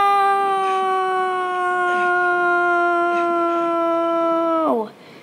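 A guard dog in a Lego-style Call of Duty Ghosts game lets out one long, loud, steady howl for nearly five seconds before it drops off sharply at the end.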